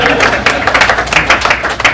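Audience applause, a dense burst of many hands clapping close and steady throughout, with some voices mixed in.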